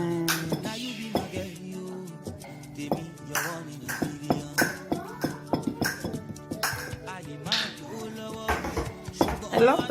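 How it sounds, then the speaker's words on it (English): Egg is mixed into moi-moi batter in a bowl: repeated clinks and scrapes of a utensil against the bowl in an irregular rhythm, close and clear, with a voice speaking over it. "So my egg is inside, and I'm going to mix the egg"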